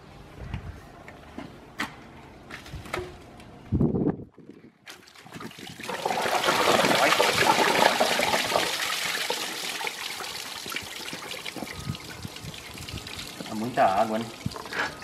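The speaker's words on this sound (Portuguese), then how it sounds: "Agora vai sair tudo um monte de água, hein?" Lots of water pours and trickles out from underneath a car being cleaned, a rushing gush that swells in the middle and then thins to dribbling, with short bumps and clatter around it.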